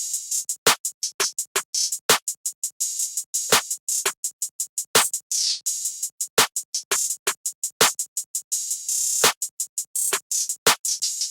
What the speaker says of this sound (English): I used this 808 openhat out of my stash kit again